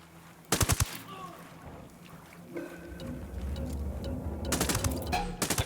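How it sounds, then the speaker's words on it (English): Rapid automatic gunfire in the Ghost Recon Wildlands shooter game, loud bursts at the start and end with sustained battle noise, vehicle hum and distant shots between, no talk. "I'm shooting these fuckers."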